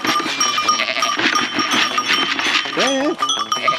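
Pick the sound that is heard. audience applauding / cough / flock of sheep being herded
flock of sheep being herded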